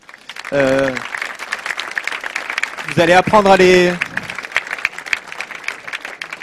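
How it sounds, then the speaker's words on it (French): Scattered audience clapping at the launch of a 24-hour innovation event at a school runs faintly beneath someone speaking into a microphone, with loud musical tones bursting in twice. "Merci de les applaudir parce que c'est quand même grâce à eux qu'on fait ça."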